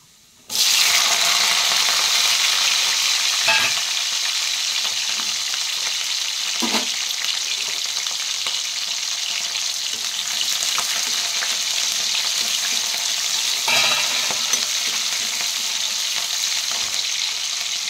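Onions sizzle steadily and loudly in a hot pan for a breakfast potato kurma, a dense continuous hiss with a few brief stirring clatters, close up and with nobody talking.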